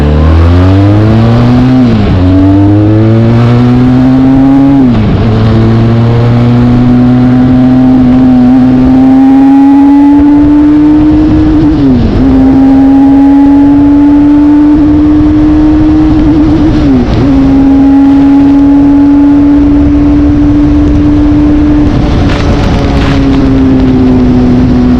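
A Benelli Leoncino 500 motorcycle engine revs hard through repeated rising sweeps, dipping briefly between gear changes and then holding a steady high pitch against the rev limiter. The engine is loud and close, with no talk over it.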